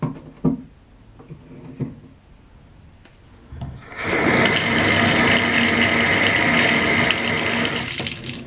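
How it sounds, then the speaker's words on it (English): Water rushes steadily down a freshly cleared sink drain, a loud continuous flow that starts abruptly after a few faint knocks and clicks and keeps running to the end. "That's a much better sounding drain."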